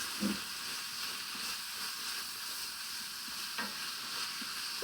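About two pounds of hamburger fries with onions and garlic in a pan, a steady close sizzle with occasional soft stirring scrapes and no voices.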